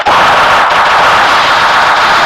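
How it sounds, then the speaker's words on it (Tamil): Continuous dense gunfire from a ranked online shooter match, a loud unbroken barrage of rapid shots and bursts running through the whole stretch with no voices over it. "அவன் சுடு ப்ரோ."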